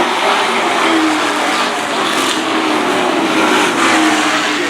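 Race cars at Stafford Speedway roar past in a loud, sustained engine howl, with rising and falling pitch as they pass close by.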